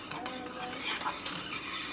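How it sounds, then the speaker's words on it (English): A spoon stirs cheese sauce into macaroni with a soft, wet, steady squelching and scraping, close and fairly quiet. No one speaks. "And you're gonna mix it in really good."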